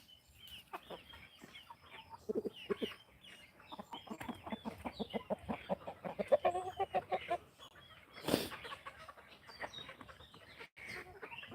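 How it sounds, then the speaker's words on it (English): Backyard chickens in a farm coop cluck in quick, rhythmic bursts close by, building into a louder run of clucks before a sharp squawk near the end; no talk is heard. "I'll keep you safe from the hermaphrodite chicken"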